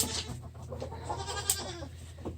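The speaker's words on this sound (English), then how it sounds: "as you can see, the goats will get them" Goats on a farm near raised feeders, bleating in several short calls through a busy, close scene with a steady low background rumble and scattered clatter.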